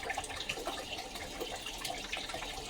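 Water running steadily from a kitchen tap into a sink while dishes are washed, with soft splashing and faint clinks close by, no talking.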